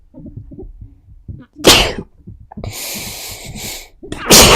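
A person sneezes close to the microphone: an early sharp burst, some snorting breaths and sniffles, then a louder full sneeze at the end.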